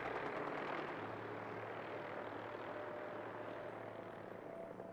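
A Fallout 4 vertibird aircraft flying with one engine on fire in a video game, giving a steady broadband engine and rotor roar that holds at moderate, distant loudness and fades slightly toward the end, with no talk.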